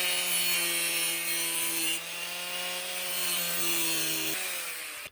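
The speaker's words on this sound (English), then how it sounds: "I'm just using a cutting wheel, which is not really the right tool, but I'm gonna use my smallest grinding wheel." An angle grinder with a cutting wheel grinds metal on the electric jack of a travel trailer, giving a loud, continuous whining buzz close by that shifts pitch a few times.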